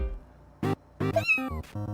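A cartoon cat in a fluffy-cat adventure video game lets out a series of short, clear meows, one with a rising pitch, among brief game sound effects.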